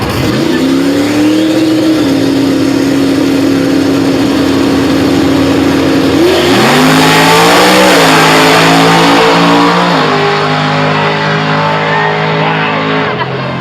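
A Chevrolet Corvette C8 Z06 engine revs hard at LS Fest East 2023, a loud, close, high-pitched howl that holds high, then climbs sharply in pitch and intensity before settling back slightly.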